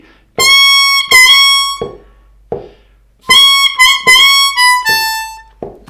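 A blues harmonica lick beginning on a blow of the 8 hole, with bright, sustained harmonic-rich notes in short phrased bursts separated by brief gaps, played alone and fairly loud.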